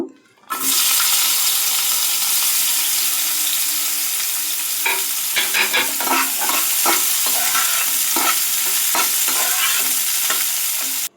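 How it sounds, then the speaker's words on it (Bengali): Bitter gourd sizzles and hisses in hot oil in a kadai, a loud steady frying noise with a clatter of stirring breaking in repeatedly through the middle and end. "তো উচ্ছেটা ভেজে নেব।"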